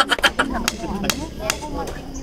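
A hammer striking during a tree planting day outdoors, several sharp, irregular blows close by with people talking over them.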